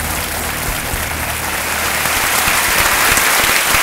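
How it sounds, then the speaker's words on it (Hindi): Loud, sustained applause from a studio audience on the Hindi quiz show Kaun Banega Crorepati fills the clip steadily, with dense clapping building slightly toward the end and no talk. "तालियों के साथ इनका अभिनंदन।"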